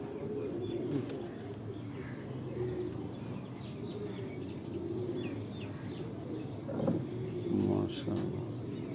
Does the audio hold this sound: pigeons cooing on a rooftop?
yes